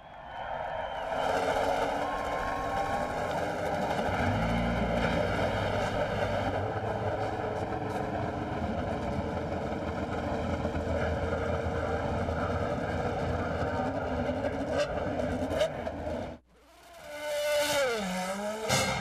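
IndyCar race car engines fire up at Michigan International Speedway in 2003, a loud sustained mechanical drone with rising and shifting engine tones over the whole stretch and a brief dip near the end before revving again.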